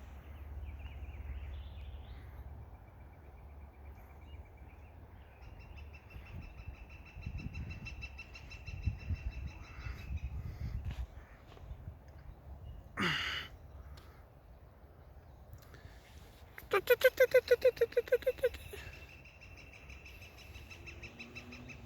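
A bird calls outdoors in a quiet natural spot, giving a short burst of rapid chirping notes after a few soft rustles and breaths against a low background hum.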